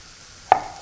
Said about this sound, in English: I'm going to slice my onion up a little bit